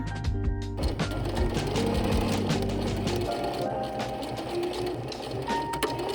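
Sewing machine stitching short fabric strips joined with right sides together, running as a steady, loud, continuous motor hum with no talking.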